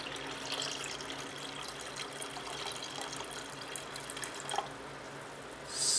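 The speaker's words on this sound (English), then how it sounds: "So we just pour the top water off again." Water being poured off a settled ormus precipitate in a container, a steady soft trickle and splash running throughout, fairly faint, with a brief louder swish near the end.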